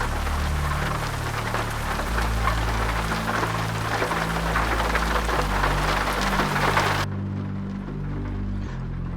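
Steady, dense rain falling in a truck simulator game, a continuous close hiss of drops on surfaces with a low rumbling undertone, cutting off sharply near the end to leave only the quieter low hum.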